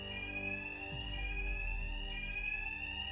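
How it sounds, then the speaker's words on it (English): Fire alarms blare in Batman: Arkham Knight, a steady, loud electronic tone that drones on and on through the whole stretch over a low rumbling bed, with no voices. "these thugs can't hear a thing over the alarms"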